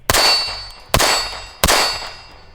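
Three loud, sharp shots from a Glock pistol fitted with a Genghis Komp C2X compensator and a DPM recoil spring kit, fired at a steady pace, each with a ringing decay.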